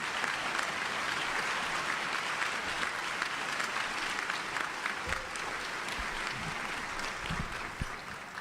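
A forum club audience gives NBC's Chuck Todd a warm welcome with sustained, dense applause, loud and even throughout before it begins to thin near the end.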